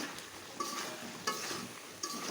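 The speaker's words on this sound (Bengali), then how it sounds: "একটু নেড়ে দেই" Food cooking over low heat is stirred in a pan, a steady close sizzle broken by a few scraping strokes of the spoon, with no talk.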